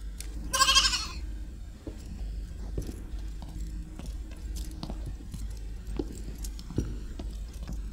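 A goat bleats once, loud and close, a short wavering cry near the start, followed by quieter chewing and scattered clicks and knocks against a low steady hum.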